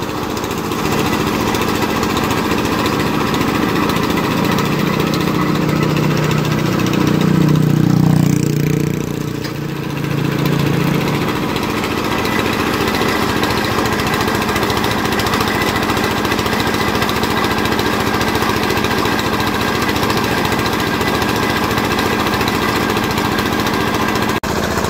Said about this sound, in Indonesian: Ini dia mesin raksasa bosku ya.